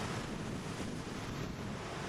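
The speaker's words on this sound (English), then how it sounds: "The ocean was churning angrily the day I was there." Rough ocean surf churning along the rocky South African coast on the Otter Trail, a dense continuous roar of breaking waves mixed with wind buffeting the microphone, loud and unbroken.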